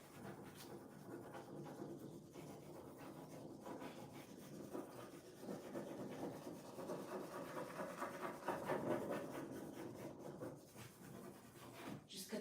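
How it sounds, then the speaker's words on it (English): A blade cuts a decorative transfer along painted wooden furniture trim, giving a continuous, quiet scraping and rubbing that swells slightly midway through, with no talking. "Just cutting the transfer on the trim."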